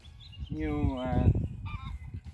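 A single hen, just after laying an egg, lets out a loud, drawn-out cackling squawk, rising and then trailing off, close by.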